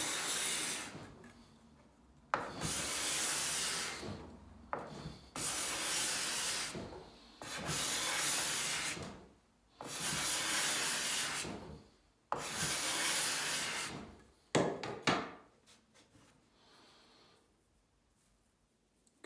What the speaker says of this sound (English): Got some decent curly shavings coming here.